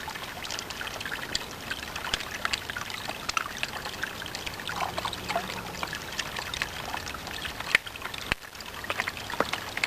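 Water trickling and dribbling through a Sawyer Mini water filter outdoors, a soft, steady pour with scattered drips and small splashes, fairly faint and close.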